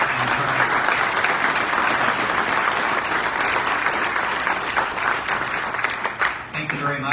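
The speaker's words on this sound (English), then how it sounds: "Again, one more time, a big round of applause for all past and" An assembly audience at an American Legion Department of Ohio general session gives a sustained round of applause, thick and steady clapping from a large crowd that thins out near the end.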